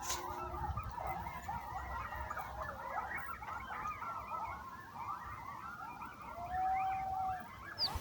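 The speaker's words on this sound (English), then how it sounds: "it started at 4 in the morning with the coyotes howling and yipping up a storm." A pack of coyotes howls and yips at 4 a.m. in rural Eastern Oregon. Their overlapping yelps and wavering howls form a steady, fairly distant chorus, with one drawn-out howl near the end.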